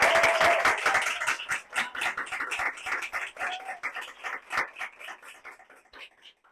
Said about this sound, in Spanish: ayúdenme a dar un gran aplauso a Jimena Otero